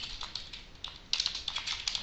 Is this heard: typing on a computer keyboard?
yes